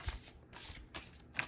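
A deck of oracle cards is shuffled by hand, giving soft papery riffles and flicks in a few quick bursts, faint and close in a quiet room.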